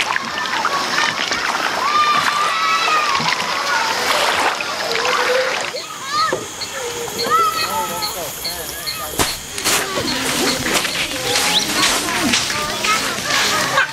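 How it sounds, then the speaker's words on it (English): Kayapo villagers swim and splash in an Amazon jungle river, with irregular splashes and sloshing water throughout. A voice talks over the water sounds. "The Kayapo know it's safe for them to swim here."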